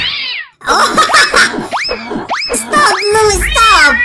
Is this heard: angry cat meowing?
yes